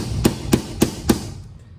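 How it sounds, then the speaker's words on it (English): Four sharp metallic hammer blows on a punch set against a retaining ring, spaced evenly about a quarter second apart, close and clear, then quiet. "allow you to get a punch and a hammer on it to actually unscrew it"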